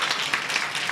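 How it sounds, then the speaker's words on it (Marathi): An audience at a devotional kirtan gathering claps together in a short, dense burst of applause, steady and moderately loud throughout, with no voices. "याच्याकरता टाळ्या वाजवा सर्वांनी."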